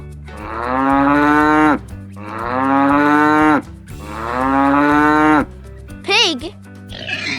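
A cow lets out three long, loud moos one after another, each swelling and then trailing off, followed by a brief squeaky sweeping sound, with music humming beneath.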